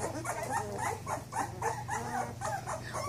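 Newfoundland puppies whimper, yip and bark in a series of short, high cries over a low steady hum in a nursery setting.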